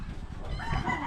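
A chicken crows outdoors, a rising strained call fairly close and loud over a rough background, with no talking during the call.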